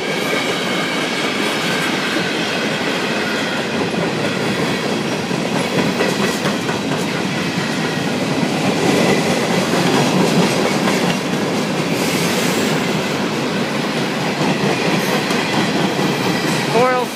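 A CSX freight train rolls steadily past close by at a road crossing in Oxford, Ohio, boxcars rumbling with rhythmic clickety-clack of wheels and occasional metallic squeals.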